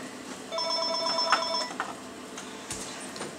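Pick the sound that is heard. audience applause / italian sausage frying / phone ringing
phone ringing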